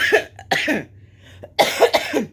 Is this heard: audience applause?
no